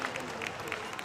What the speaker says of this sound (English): Ladies and gentlemen, big round of applause for our seniors.